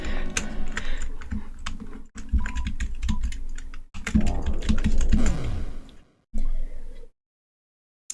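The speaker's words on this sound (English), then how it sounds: "Loud keyboard noises." Loud clacking of a computer keyboard during a gaming session, rapid irregular keystrokes in dense bursts broken by brief pauses, close and prominent, ending in silence.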